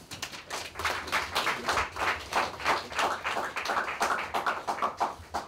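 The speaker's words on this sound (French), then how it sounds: "Merci de l'applaudir." Audience clapping at a public debate on mining in Brazzaville, a moderate, uneven patter of hands that carries steadily through the stretch without a clear rise or fade.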